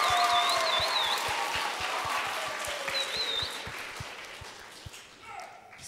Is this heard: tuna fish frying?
no